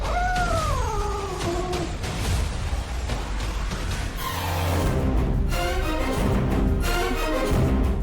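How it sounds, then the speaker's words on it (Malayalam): A cat meows in a few drawn-out, wavering calls, fairly close and clear over a busy background of ambient sound and music-like tones. "അമ്മേ, ആ പൂച്ച നമ്മളെ തന്നെയല്ലേ നോക്കുന്നേ?"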